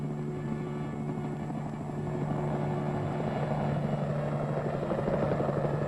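A steady military helicopter drone with a pulsing rotor thump continues throughout, moderately close and unbroken by voices, as it lifts and delivers artillery.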